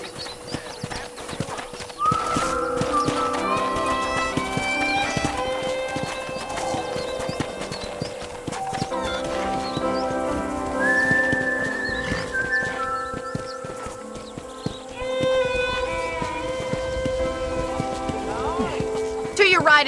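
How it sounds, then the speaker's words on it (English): Rhythmic clip-clop of horse hooves in the game Red Dead Redemption runs throughout with occasional whinnies, set against a bright tonal music backdrop with a synthetic, game-like quality. "Okay, let's see if you can still ride a horse."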